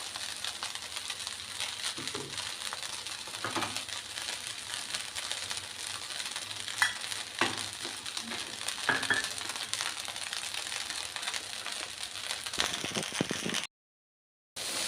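Chicken fried rice sizzles steadily in a hot pan while being stirred, with soft scraping and patter running close and even throughout, then cutting out briefly near the end.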